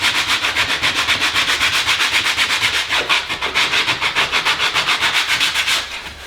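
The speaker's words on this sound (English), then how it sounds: "So this corner here, I'm just going to try and sand it down by hand." 80 grit sandpaper rubbed by hand along a rough wooden corner edge, a steady rhythmic rasp of quick back-and-forth strokes, loud and close, with a brief stumble in the middle and no talking.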